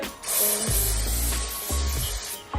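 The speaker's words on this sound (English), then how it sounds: "I did not hesitate to just spray on all over the bag" Leather protector is sprayed over a Louis Vuitton bag with vachetta leather in short hissing bursts from an aerosol can, close and fairly loud, three or four sprays in quick succession with brief pauses.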